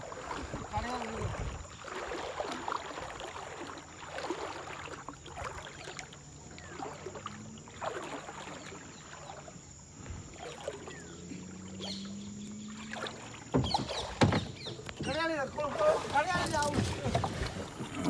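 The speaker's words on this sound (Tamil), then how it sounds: "படகுல ஏறியாச்சு மக்களே" A boat moves across the water at a port, with splashing and the sound of the hull and wind running under voices talking nearby, and louder bursts toward the end.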